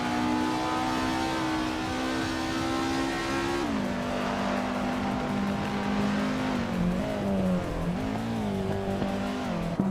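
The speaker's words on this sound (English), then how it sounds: "Kitten is driving a Peugeot 205 Rally, a lightweight and nimble car known for its agility." A Peugeot 205 Rally race car in a racing video game drones loudly with a sustained, revving engine note that shifts pitch as gears change, steady and close throughout with no voices.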